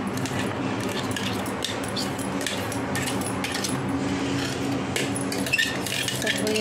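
Ground chutney is scraped from a grinder jar into a cooking pot with a metal spoon. Quick clinks, scrapes and soft squelches sound close by in a home kitchen, with little talk.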